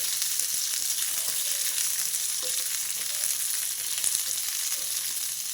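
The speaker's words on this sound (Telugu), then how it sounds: "ఆ ఉల్లిపాయ వేగడం కోసం కొంచెం ఆయిల్ వేస్తున్నా ఉల్లిపాయలు కొంచెం మగ్గాలి ఆయిల్లో" Onions frying in a little oil make a steady, close, dense sizzle that stays even throughout, with faint clicks and no voices.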